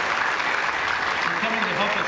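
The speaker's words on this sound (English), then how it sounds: "Let's give them a round of applause." A brief burst of steady audience applause at a Ross County, Ohio bicentennial gathering, even and sustained throughout, with a voice faintly underneath.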